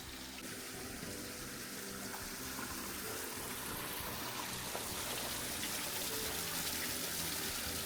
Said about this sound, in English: the water is coming from up there along and then down to spin this water wheel